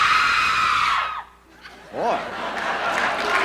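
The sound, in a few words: audience screaming and cheering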